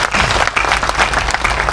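Loud, steady applause from a large crowd at a youth leader's birthday rally in Surajgarh, Jhunjhunu, a dense unbroken clatter of clapping hands throughout.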